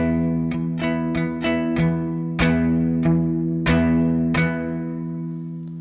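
A cigar box guitar is strummed through a chord pattern: about ten bright, ringing down and up strokes in an even rhythm, close and clear with no talking.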